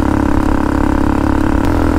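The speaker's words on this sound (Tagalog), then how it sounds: "Nasira po yung tambutso ng motor na ito" Motorstar MSX 150SR motorcycle engine with a broken exhaust runs close and loud, a steady raspy mid-pitched drone without pauses.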